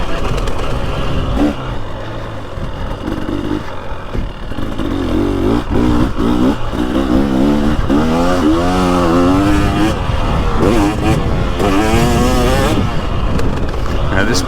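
Husqvarna TX300 2023 two-stroke motorcycle ridden around a flat, tight, watered vintage moto track, engine loud and close with repeated revving rises and falls throughout, a voice talking over it.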